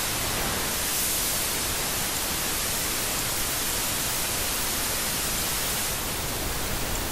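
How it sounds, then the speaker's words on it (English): A loud, steady hiss of broadband white noise from a Needlepoint vinyl simulator, with a slightly darker, pink tone, holding constant for several seconds. "So that's more white noise, kind of more pink."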